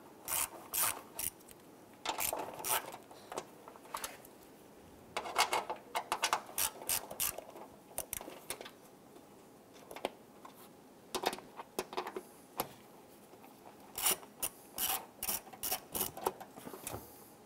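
Ratchet wrench backing out four 10mm bolts behind the firewall area of a 1995-2001 Ford Explorer during hood release handle replacement; close, repeated bursts of rapid clicking and rasping with short pauses between them, no talk.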